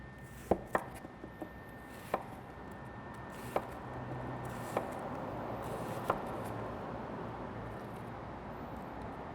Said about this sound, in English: we're going to start by taking all the skin off of this and slicing it nice and thin.